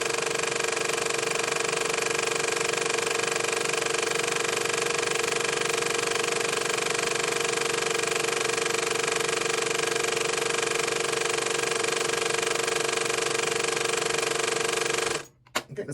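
A sewing machine runs continuously while winding a bobbin, a loud, even mechanical drone with a steady whirring hum that holds unchanged for about fifteen seconds and then cuts off abruptly.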